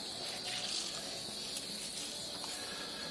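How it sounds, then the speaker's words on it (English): Basil leaves are lifted from a bowl of cold water and squeezed by hand, giving a steady, close, hissing rush of trickling and dripping water with no pauses. "just pick them up out of the cold water and give them a good squeeze"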